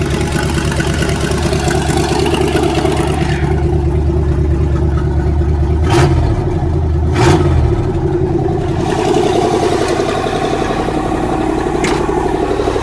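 Engine of a 1977 Corvette, an ex dirt-track race car pulled from a junkyard after being totaled, running loud and close with a steady rough idle and a couple of brief throttle blips, no talking.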